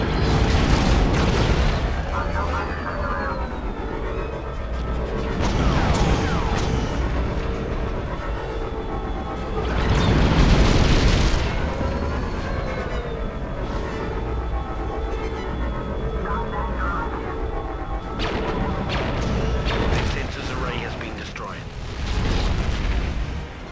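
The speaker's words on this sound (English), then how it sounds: "the constant missiles are getting kind of annoying" Repeated missile explosions in Star Wars Battlefront 2's Clone Wars era: several deep, rumbling blasts swell and fade at intervals over a steady roar of battle, loud and fairly close, with a voice talking intermittently.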